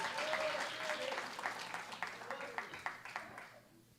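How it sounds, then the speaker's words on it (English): Audience applause following a music arangettram concert, a sustained wash of many hands clapping that swells, then thins into scattered individual claps and fades away, with a voice speaking briefly over the start. "Let's give him another round of applause"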